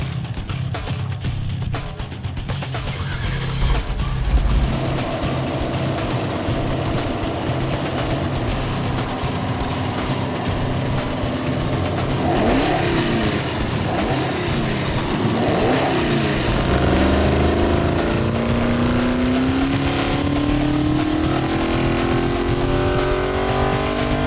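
A modified engine in a 1964 Comet drag car roars steadily on a dyno, building from a loud idle into a sustained high-revving wail that climbs in pitch toward the end.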